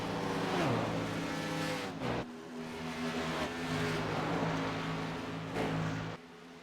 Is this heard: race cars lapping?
yes